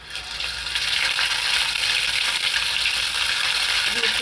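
Onion, garlic and ginger paste sizzles steadily in hot oil with bay leaf, green chilli and nigella seeds, a dense, continuous crackling fry heard up close for kucho chingri.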